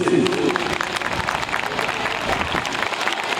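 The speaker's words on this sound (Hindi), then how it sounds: "ताली ताली जोर से" An audience claps at a Christmas celebration as a pastor is called up to the stage. The clapping is dense and steady, with voices and some music mixed in.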